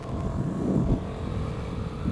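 Scooter fitted with a Shijiro Standard Racing exhaust idles close by, a steady low rumbling hum that swells slightly midway and then settles.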